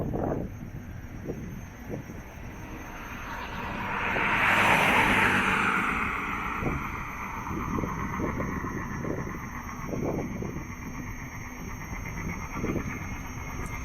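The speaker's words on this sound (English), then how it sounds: "Yeah, I can hear a car coming behind me." A car on a road approaches from behind, its broad rising whoosh swelling and peaking mid-clip before easing off, heard over gusty wind noise and scattered low thumps.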